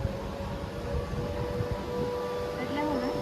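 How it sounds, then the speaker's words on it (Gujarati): Civil defense siren sounding during a mock drill in Surat, a steady wailing tone with a rising and falling pitch sweep near the end, heard outdoors over a busy, rumbling background with faint voices. "સાયરન વાગ્યું."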